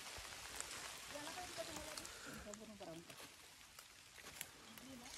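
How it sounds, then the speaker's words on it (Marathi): Light drizzle falls outdoors on an adventurous uphill outing, making a soft, continuous patter heard faintly beneath people talking. "पाऊस पडतोय"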